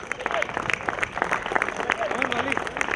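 Crowd clapping for the scorers at a local cricket league final at a ground, a steady patter of claps mixed with crowd noise and voices talking over it.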